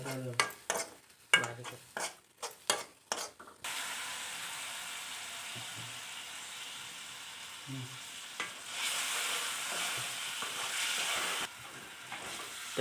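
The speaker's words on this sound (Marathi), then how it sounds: "मसाला मिक्स करून घ्यायचा आपल्याला भाजून घ्यायचा आहे" Fish masala being stirred and roasted in a pan, opening with a series of sharp spatula scrapes and knocks, then settling into a continuous close sizzle that swells louder toward the end.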